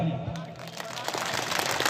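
A crowd at an Adivasi political rally in Margherita during the 2021 election campaign breaks into applause, a dense clapping wash that swells beneath and after a man's amplified speech.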